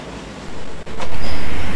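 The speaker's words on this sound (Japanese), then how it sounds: "長野のリンゴのような色の電車がやってきました。" A loud, close electric train rumbles in, its heavy continuous roar swelling and filling the space.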